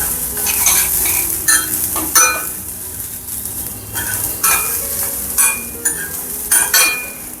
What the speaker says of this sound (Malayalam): നമുക്ക് കുറച്ച് തേങ്ങ ചേർത്ത് കൊടുക്കാം. ഒത്തിരി വേണ്ട. ഇതെല്ലാം ഓഫ് ചെയ്തിട്ട് ഇളക്കിയാൽ മതി.